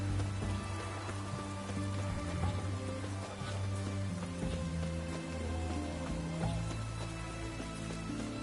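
Steady rainfall in The Witcher 3: Wild Hunt patters softly and continuously, with a low ambient hum underneath and no voices.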